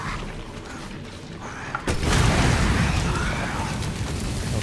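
A shotgun blast in Resident Evil 7 goes off as a single loud, sharp boom, followed by a dense, sustained rumble and noise.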